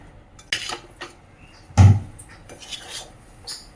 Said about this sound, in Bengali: ফুড কালারটা দিয়ে ভালো করে এই চামচের সাহায্যে মিশিয়ে নিচ্ছি